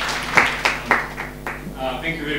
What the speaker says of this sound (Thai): ปรบมือให้คุณแม็กซิมอีกทีดีไหมครับ